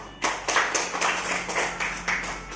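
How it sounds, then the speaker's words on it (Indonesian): A small group claps in uneven bursts at a school class gathering, with a handful of distinct clap clusters close by and no talking over them. "kita beri tepuk tangan dulu buat Primana"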